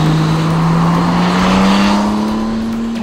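Engine of a 2014 Honda Gold Wing F6B motorcycle, a loud, steady close-up drone with a strong low hum that rises slightly in pitch as it runs continuously without voices.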